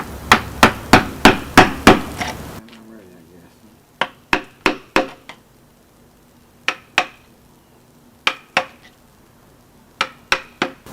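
A hammer striking a chisel carving wood on a sculpture, a fast run of sharp close knocks and then sparser clusters of two to four blows separated by pauses, over a faint room hum.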